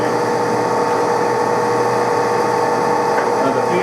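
A shop lathe runs at 180 RPM, giving a steady, loud, continuous hum with a fixed tone and no breaks throughout.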